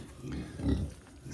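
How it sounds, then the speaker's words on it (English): Pigs on a farm give low grunts close by at a quiet level, a short rumbling grunt rising near the middle over soft background rustle. "Nice, solid looking pigs."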